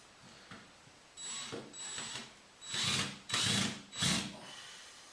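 A power drill drives screws to mount a vertical blind, with several short close whirring bursts separated by pauses, the last three longer and louder.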